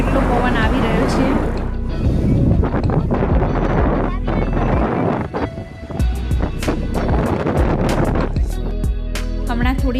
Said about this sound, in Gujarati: અને આજે તમે અવાજ સાંભળી રહ્યા હશો કેટલો પવન આવી રહ્યો છે.